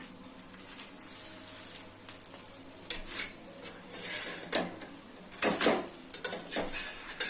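A roti spread with dal roasts on a hot pan, giving a soft sizzle under clinks and scrapes of a utensil pressing and turning it, with louder scraping bursts toward the end.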